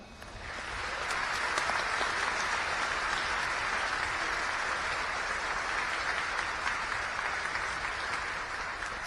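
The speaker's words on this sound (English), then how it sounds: "a warm round of applause if you join me." A large audience at a Congressional Space Medal of Honor ceremony applauds warmly, a dense, steady wash of clapping that swells in quickly and holds evenly throughout without speech.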